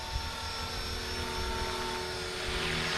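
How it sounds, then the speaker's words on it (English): A Blade Fusion 360 electric RC helicopter on a 23.9-volt flight pack, flying in normal mode, gives a steady high rotor whine and buzzing drone, continuous and fairly close with no speech. "So smooth, this helicopter."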